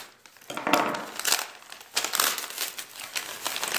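Packaging for military memorabilia being cut open, with close, continuous crinkling and rustling of plastic and paper in irregular bursts, no talk over it.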